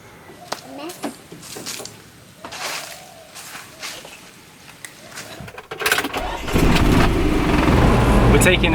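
A car engine starts up and settles into a steady, loud running rumble as the car sets off on a drive into the town of Alegria in the Philippines, with people talking over it.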